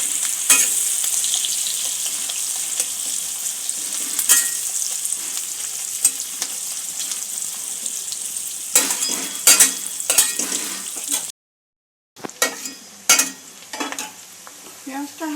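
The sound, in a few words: onions frying and being stirred in a pan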